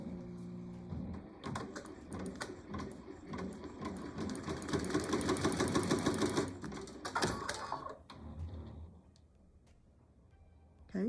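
An embroidery machine stitches a placement line for elastic, a rapid rhythmic mechanical chatter running steadily for about seven seconds before slowing and stopping, leaving a quiet hum.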